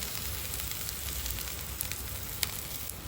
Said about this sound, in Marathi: तवा असा मस्त गरम झालेला आहे त्यावर मी तेल टाकलंय छान